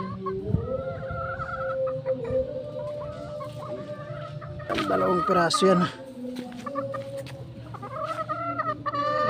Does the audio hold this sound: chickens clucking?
yes